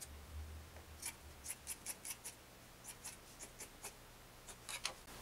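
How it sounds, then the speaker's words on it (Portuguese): Scissors snipping through fabric while cutting out a godê (circle) blouse, a series of crisp, close, rhythmic cuts in bursts with short pauses, no talking. "Agora a gente passa a tesoura aqui."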